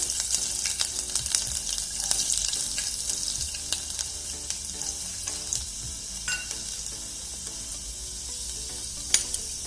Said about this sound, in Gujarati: હવે આપણે આની અંદર લસણ એડ કરીશું।